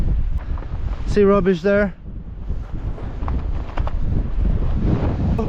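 Wind blows across an open field at a wild camping spot in North Wales, buffeting the microphone with a constant low rumble while a voice briefly speaks over it.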